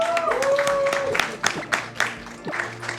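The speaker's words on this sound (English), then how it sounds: "Can we get another round of applause for Naomi here?" A crowd claps for speedrunner Naomi after a Pokémon Ultra Moon Team Rainbow Rocket run, scattered claps rising and falling over a few seconds, moderately near, with an electronic tone and some background voice-like sound mixed in.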